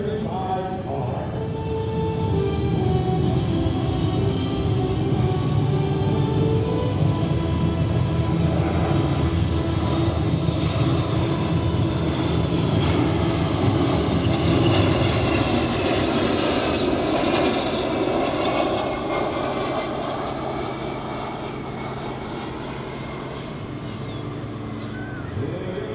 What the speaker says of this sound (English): Coming in from the right, everybody, here is the KC-135R.